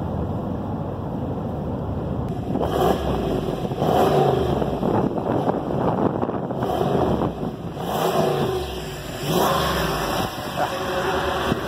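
Ram Power Wagon pickup with the new 8-speed transmission accelerating hard down a road near Las Vegas: a loud, steady engine roar heard from inside the cab that swells in waves as it climbs through the revs.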